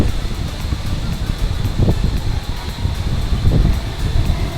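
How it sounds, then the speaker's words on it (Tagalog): Strong gusty wind before rain outdoors, a continuous rushing roar buffeting the microphone with surges and swells, no voices. "Lakas ng hangin guys oh."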